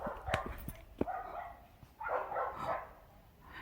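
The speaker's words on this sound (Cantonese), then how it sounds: "出到村口啦，聽到狗吠聲。" A dog barks faintly in the distance at the edge of a village on a hillside hiking trail near Kai Kung Shan, a few short sharp yaps against quiet outdoor ambience.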